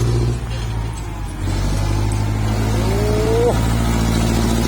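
A heavy MU4902 truck roars as it strains to push a pile of clay soil, its loud, steady low engine drone building with a rising rev partway through, over a constant rumble.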